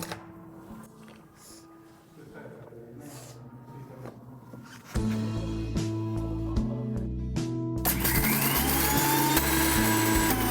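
A kitchen mixer grinder powders black pepper and cumin with salt and asafoetida. It switches on midway with a loud, harsh whirring motor that keeps running steadily over background music.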